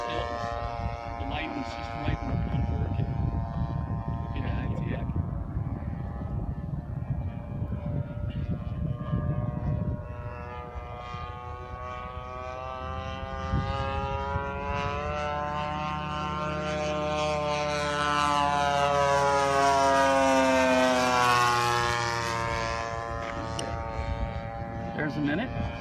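An 89-inch Decathlon model airplane flies overhead, its engine whine rising and falling in pitch with strong harmonics, growing louder as it passes close before fading, with people talking throughout.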